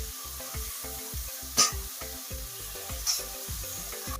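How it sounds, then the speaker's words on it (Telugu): Chopped onions frying in oil in a pan give a steady, moderate sizzle with a couple of brief sharper crackles, all under a repetitive rhythmic musical backing. "అందులో కట్ చేసిన ఉల్లిపాయలు వేస్తున్నాను. ఇవి కొంచెం గోల్డెన్ బ్రౌన్ వచ్చేంత వరకు ఫ్రై చేసుకోవాలి."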